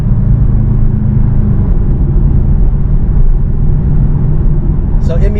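Steady low engine rumble from a Porsche Cayman 718 flat-four turbo fitted with a RaggDoll turbo inlet, heard from inside while driving in normal mode, with a continuous intake drone and no talk.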